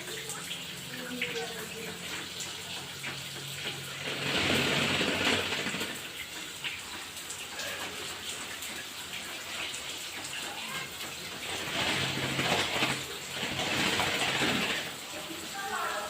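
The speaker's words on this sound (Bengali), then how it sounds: "ঝর্ণায় গোসল করতেছে ময়না?" A myna bird bathes under a running shower: a steady hiss of falling water swells into louder splashing bursts, heard close and continuous throughout.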